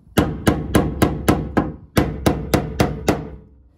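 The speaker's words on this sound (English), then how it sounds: "Put a screwdriver on it, and you hit it in a counterclockwise motion." A hammer strikes a screwdriver set against the fuel pump lock ring tabs on a Lincoln Continental, producing nine or ten sharp metallic taps in a steady rhythm, loud and close, with no talking.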